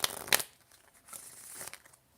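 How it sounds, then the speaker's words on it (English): A deck of cards is being shuffled, giving a crisp riffling burst at the start, then a softer fluttering rustle about a second later. The sound is close and quiet, with no talking. "Just shuffling the cards,"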